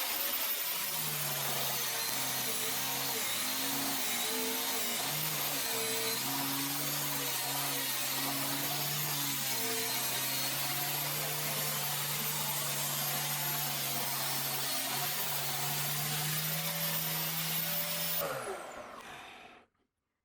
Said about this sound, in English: This is a great opportunity to use my new sander to trim this down to